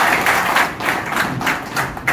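An audience at a public meeting claps in a steady, rhythmic pattern of bursts, moderately loud and close, sounding together without speech over it.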